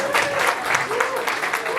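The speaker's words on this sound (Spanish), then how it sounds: "fue un aplauso también para ella" An audience at a university lecture event in Tepotzotlán applauds the event coordinator. The clapping is steady and fairly close, mixed with voices and a faint tonal murmur, and lasts under two seconds.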